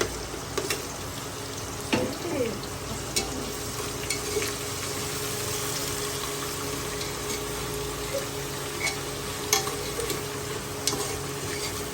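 Onions frying and being stirred in a pan at home, a steady low sizzle with occasional scraping knocks of the spoon, close and fairly even.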